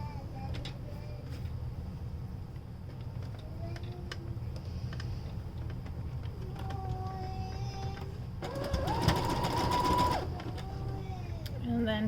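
A sewing machine stitching a stretchy beard sock, a quiet, rapid ticking mechanical whir running steadily throughout, with a brief louder burst near the end.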